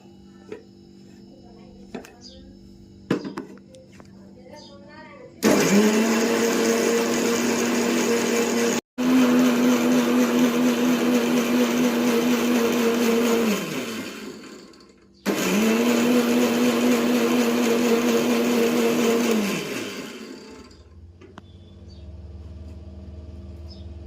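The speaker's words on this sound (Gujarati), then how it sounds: "ઘરનો ફોદીનો કોથમી અને મરચું તૈયાર કર્યું છે પીચવાનું છે મિક્સરમાં" A kitchen mixer grinder purees fresh mint, coriander and green chili for pani puri, whirring loud and steady in two long runs with a short stop between, then winding down into quiet room noise.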